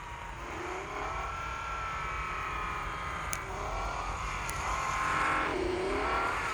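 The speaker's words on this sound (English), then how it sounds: "This car does not do a donut very well, does it now?" Supercar engine droning and revving in a racing video game as the car spins through donuts, a steady mid-level whine rising and falling in pitch with faint tyre noise and two short clicks.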